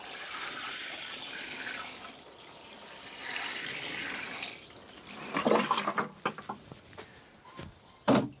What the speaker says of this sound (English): Just give them a little water in.